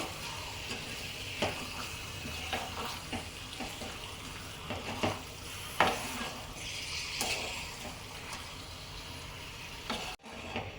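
Chicken being stirred and fried in a pan for a restaurant-style chicken handi, with a steady close sizzle under repeated scraping stirs and a short pause near the end.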